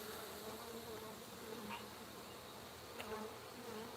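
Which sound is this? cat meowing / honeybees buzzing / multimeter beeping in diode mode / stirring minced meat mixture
honeybees buzzing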